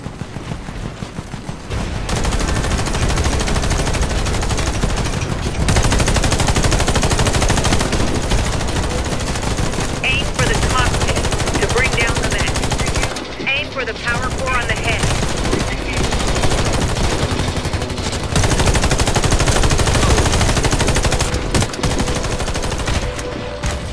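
Sustained automatic gunfire rattles through a firefight in the video game Warface, loud and dense bursts running almost continuously with brief lulls, mixed with game effects.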